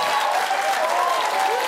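Studio audience at a late-night talk show applauding steadily, a dense continuous wash of clapping held at an even, loud level throughout with no talk over it.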